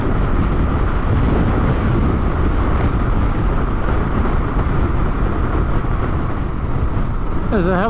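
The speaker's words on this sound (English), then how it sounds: "There's a hell of a crosswind here" Strong crosswind buffets the microphone of a car driving a bumpy road through the Yorkshire Dales, a loud, continuous roaring rumble filling the whole stretch with no talk.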